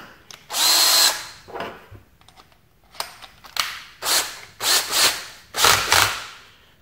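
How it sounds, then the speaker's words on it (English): DeWalt power drill boring into a plastic box, several short bursts of high whining drilling separated by brief pauses, close and loud with no talking. "And this is where we're gonna drill, right about here."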